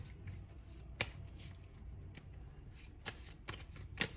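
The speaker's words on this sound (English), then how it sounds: "All right, now I wanna bring some more tarot." A deck of tarot cards is shuffled quietly at close range, with a few sharp riffling snaps and light papery rustles over a soft background.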